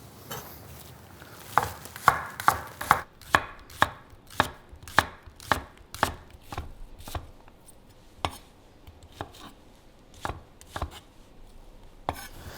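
A knife chopping fennel on a cutting board for a pork belly vegetable bed, a string of crisp, evenly paced cuts, quick at first then slowing and spacing out, close and distinct with no talking.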